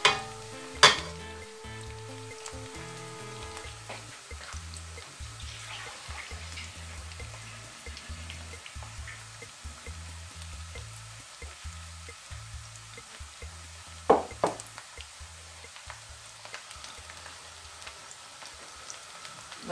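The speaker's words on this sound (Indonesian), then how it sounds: "Bawang merahnya ditumis dengan sedikit minyak." Chopped onion sautéing in a little oil in a pan for Medan goat curry gives a steady, quiet sizzle throughout, with a few sharp clinks of a utensil against the pan near the start and again later.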